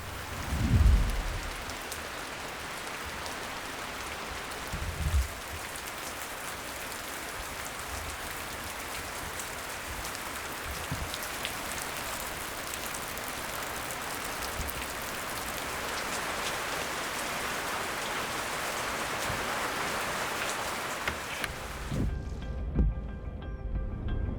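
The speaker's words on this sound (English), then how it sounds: "absolutely pouring rain this morning, and you know, raining all day." Heavy pouring rain on a morning at a black bear hunting camp, a steady dense hiss across the whole stretch with a few low thumps and rumbles, cutting off near the end.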